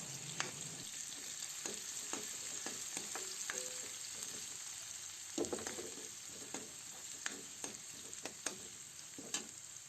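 Garlic and onion frying in oil in a pan, a steady sizzle running throughout with repeated clinks and scrapes of a utensil stirring at irregular intervals, fairly close and moderately loud, no voices.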